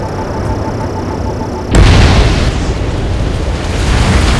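Bombs strike anti-air radar vehicles in the combat flight game Ace Combat 7, setting off a sudden loud blast that gives way to a sustained, rumbling roar of explosions over steady background engine noise.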